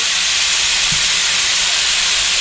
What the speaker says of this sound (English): I'm going to throw in some butter